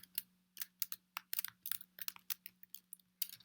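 Keys clatter on a computer keyboard in quick, uneven bursts of crisp clicks, close and fairly quiet, over a faint steady hum.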